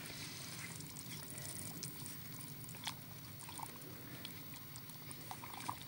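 Liquid plaster being stirred for a wolf track cast, a soft continuous wet sloshing and trickling close by, with faint scattered clicks and no talking.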